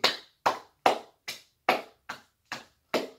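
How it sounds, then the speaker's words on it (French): Eight sharp, evenly spaced handclaps from a single person, close and clean, with silence between each, applauding wrestler Kofi Kingston. "On se lève tous et on applaudit pour Kofi Kingston."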